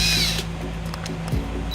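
A power driver sends a self-tapping tech screw into the lower body of a 2010 Ford Escape to fasten a ground wire for trailer wiring: a short, close whir that stops and then briefly restarts.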